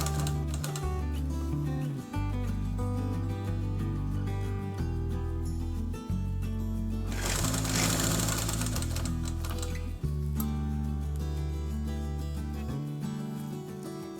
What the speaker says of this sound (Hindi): फिर हम लोग आर्म होल पे सिलाई लगाएंगे